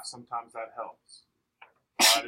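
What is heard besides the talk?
sneeze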